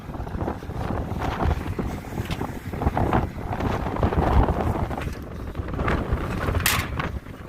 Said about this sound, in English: It was blowing like crazy all day yesterday, and it's still blowing.